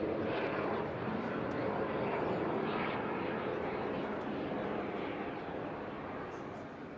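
An aerobatic aircraft flies a display at the Eastbourne International Airshow, a broad roaring engine drone that holds loud and steady and then fades slightly as it passes.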